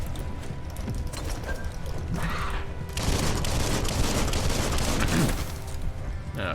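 Gunfire in the video game Biomutant, a dense continuous fusillade of shots layered over game sound, growing louder and heavier midway through before easing slightly, with no talk.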